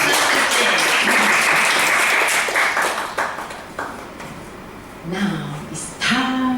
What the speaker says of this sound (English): please give big loud applause to table topic master, Toastmaster.